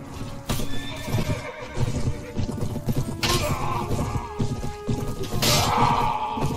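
Horses neigh and gallop in Mount and Blade Warband. Loud whinnies sound over a dense clatter of hooves and battle clashes, with repeated sharp cries across the clip.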